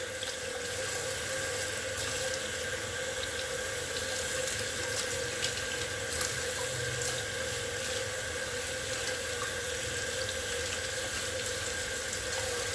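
Steady running water pours from a tap into a sink while a Nama J2 juicer is being rinsed, a continuous even rush with faint clatter from handling parts and no talk.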